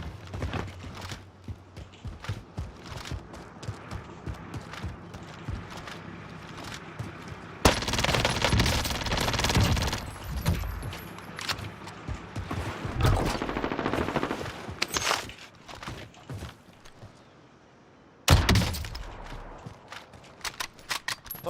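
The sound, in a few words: gunfire in the video game Call of Duty: Warzone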